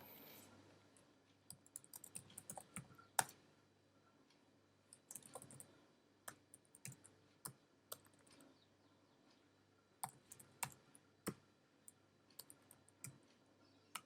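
Quiet keyboard typing as a command is entered on a computer, with irregular bursts of key clicks separated by short pauses and a faint background hum, and no voices.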